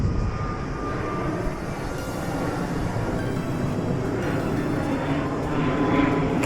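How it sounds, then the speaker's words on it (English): An airplane climbs overhead at a holiday resort, its broad, steady engine roar filling the whole stretch at close to constant loudness with no talking. "There's a nice plane going up there."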